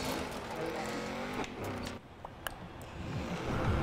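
A 2019 Lamborghini Urus engine in Forza Horizon 4 revs steadily under acceleration, with a brief dip and a sharp blip partway through before the drone climbs louder again at the end.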